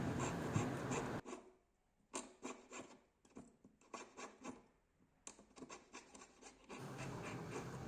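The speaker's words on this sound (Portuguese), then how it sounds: "Nessa parte eu vou estar recortando aí o excesso de chapa e tá deixando esse brinco aí pronto para acabamento e montagem." A jeweler's saw cuts excess metal sheet from an earring in quick, rasping bursts of short strokes, separated by brief pauses and close to the listener.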